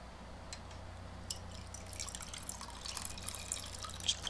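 Liquid being poured, heard as faint drips and small splashes that grow busier toward the end over a steady low hum.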